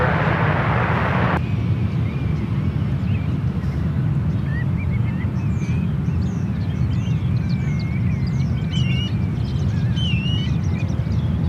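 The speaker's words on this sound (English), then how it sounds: "Canada A320 lining up for runway 1 right" Air Canada A320 airliner lining up on a runway at San Francisco airport, a steady loud low engine rumble and roar filling the scene throughout, with a brief louder broadband burst at the start and faint bird calls above.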